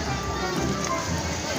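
Rain falls steadily outdoors in a continuous soft hiss. A voice can be heard faintly beneath it.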